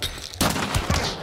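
Video game gunfire during a team firefight, a short dense burst of rapid shots up close, loud and continuous over about a second.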